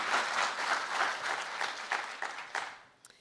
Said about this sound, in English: I also think that deserves a clap.